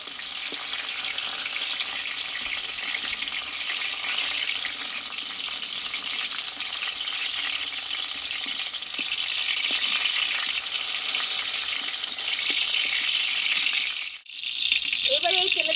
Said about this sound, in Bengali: পটলগুলো কিন্তু ভালোভাবে কষিয়ে নিয়েছি